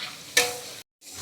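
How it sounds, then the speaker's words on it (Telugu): Chopped tomatoes fry in a pan as they are stirred, giving a soft sizzle and a sharp scrape of the spoon, then a brief dead silence before the quiet frying resumes. "తరిగిన టమాటాలు వేసుకొని బాగా వేయించుకుందాం."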